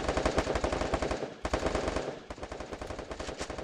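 Rapid bursts of automatic gunfire from a 4v4 video game match, loud and nearly continuous, with brief pauses between volleys.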